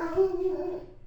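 A dog whimpers once close by, a short thin tonal whine that fades within a second.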